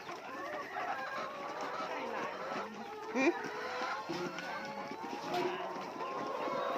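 A free-range flock of over a hundred laying hens clucks and murmurs steadily at low level across the clip, with scattered sharper calls.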